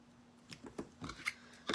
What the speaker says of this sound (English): One pair of my scissors doesn't cut ribbon very well.